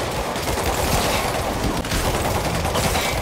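Dense, continuous gunfire from a Spider-Man video game shootout, rapid overlapping shots in a sustained loud barrage with no pauses.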